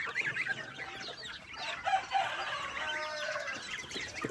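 Several chickens cluck and squawk nearby in a busy chorus, with a rooster's crow rising briefly amid the steady murmur of the flock.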